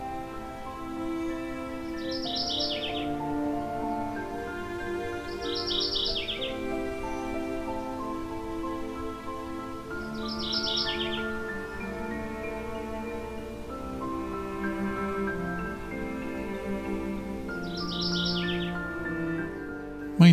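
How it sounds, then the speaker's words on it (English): A mourning warbler sings in the Halton Forest, repeating a short rolling phrase about every four seconds, fairly faint against a soft steady background. "So I'm hearing a mourning warbler."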